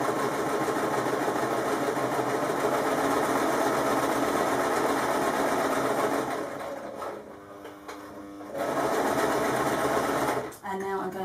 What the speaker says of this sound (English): I'm going to reverse stitch across the entire length of the top of the bookmark, and then I'll back tack